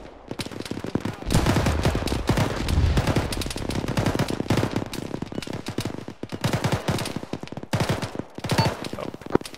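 Sustained automatic gunfire rattles in rapid bursts during an ArmA infantry firefight, with dense overlapping shots, short pauses and a few louder nearby cracks.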